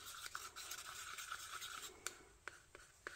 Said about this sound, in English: Stirring, stirring, stirring.